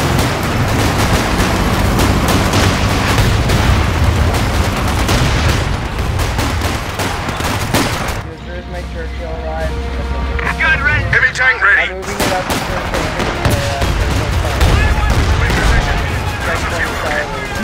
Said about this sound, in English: Mortar fire, but there's no mortar.